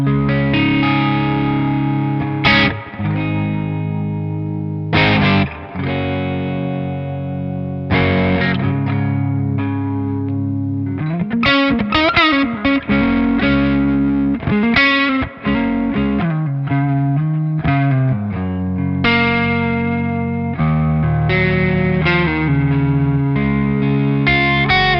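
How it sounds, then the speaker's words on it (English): A Les Paul electric guitar plays saturated, distorted chords and melodic phrases through a spring reverb, with a wet, splashy tail ringing between notes, loud and continuous. "there's some spring reverb for some more traditional sort of, yeah, guitar reverb style reverb sounds. Let's see how that sounds with the Les Paul."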